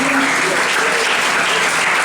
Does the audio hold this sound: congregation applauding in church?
yes